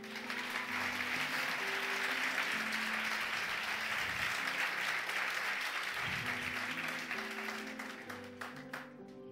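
A church congregation gives a loud, sustained round of applause offered to God during a sermon, dense clapping holding steady with organ-like sustained music tones underneath before thinning out near the end.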